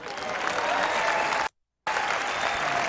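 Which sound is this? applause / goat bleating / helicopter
applause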